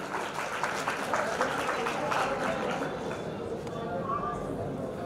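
An audience at a Dhakad community talent award ceremony in Jhalawar claps loudly and continuously, a dense crowd applause filling the hall and slowly thinning toward the end.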